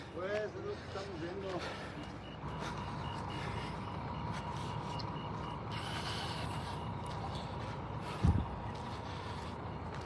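Truck still working at a night fire scene near Jiquilpan, its reversing beeps sounding steadily over a constant engine rumble and outdoor noise, with voices talking throughout and a sharp thump near the end.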